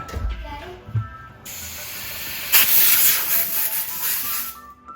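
Air compressor seating the bead of a tubeless bicycle tire on a carbon wheel with no sealant inside, heard as a loud sustained rushing hiss of air that starts abruptly midway and holds steady before cutting off, after some quieter handling noises.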